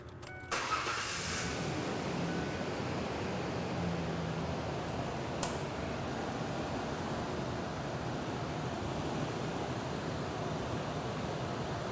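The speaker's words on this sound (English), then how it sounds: "I'm going to start the vehicle." A vehicle engine starts with a short crank and catch, then settles into a steady idle during a professional transmission flush, a constant close mid-range hum with no talking.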